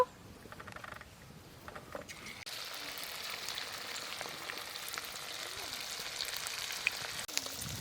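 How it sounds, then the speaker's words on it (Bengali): Chicken pieces for chilli chicken fry in hot oil, a steady hissing sizzle that grows after a quieter start, close and fairly soft, with faint clinks. "বাকিগুলো একই রকম ভাবে ভেজে নেব"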